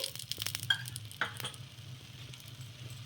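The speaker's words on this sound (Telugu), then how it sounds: "ప్లేట్ అయితే పెట్టేసుకొని సిమ్లో పెట్టుకొని కాల్చుకోవాలి హైలో అస్సలు పెట్టకూడదు" Oats batter cooks on a hot pan over a low flame, giving a soft, steady sizzle with a few light scraping and tapping clicks near the start; no speech.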